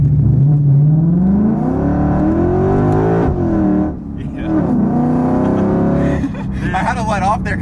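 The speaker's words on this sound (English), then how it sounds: "let's go ahead and launch this car" A modified Lexus IS F launches hard with its engine revving loudly, pitch rising through the gears close by, the roar sustained throughout with a brief dip midway.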